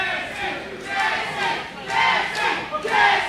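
Arena crowd at a hybrid fight between David Kidd and Jesse James, split in its support, roaring and cheering in loud swelling waves that rise and fall across the moment, with no speech over it.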